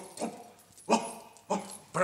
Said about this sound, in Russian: Проклятый пес проснулся и вылезает из домика.